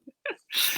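A single short sneeze: a quick intake of breath, then a sharp, breathy burst, close and fairly soft.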